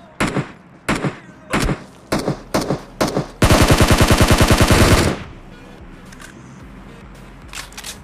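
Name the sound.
gunfire in PUBG Mobile video game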